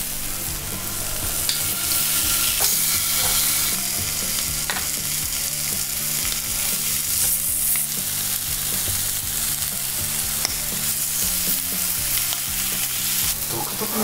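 Meat sizzling on a yakiniku grill, a steady close crackle and hiss of frying that runs throughout with a low background hum.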